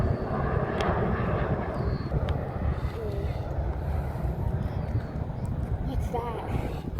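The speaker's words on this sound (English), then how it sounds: "looks like that Frontier is gonna take off" Frontier airliner jet engines at Charlotte airport, a steady, broad roaring rumble with wind buffeting the microphone, heard from a distance at a planespotting spot while people chat nearby.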